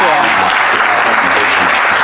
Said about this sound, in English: I hope we can get another round of applause.